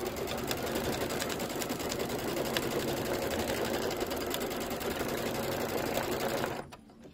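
A Kimberbell embroidery sewing machine stitching a trapunto pineapple pouch runs in a steady, loud, rapid mechanical whir close by for about six and a half seconds, then stops abruptly.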